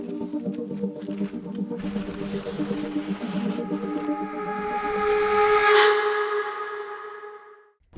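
A long train whistle at a railway station, a sustained multi-tone blast with a hissing edge that builds, peaks and then fades over several seconds, loud and alone.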